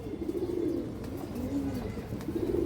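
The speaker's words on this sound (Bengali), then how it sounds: "খুব ভালো ব্রাড লাইনের কবুতর দেখেন" Old-blood pigeons of tota, khaki, bagha and silver lines coo steadily at close range, their low, rolling calls overlapping in a continuous murmur with no talk.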